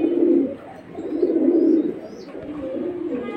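Silver pigeons coo in low, throaty, repeated phrases close by, with a pause between bursts and no talking over them.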